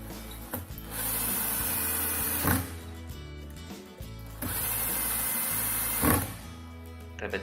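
A power screwdriver drives large screws into a TALENTEC bartop arcade kit in two long, steady whirring runs, each ending in a brief louder burst as the screw seats, with a short pause between them.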